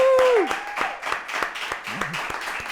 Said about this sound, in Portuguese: ajudem-me com um enorme aplauso a dar as boas-vindas à grande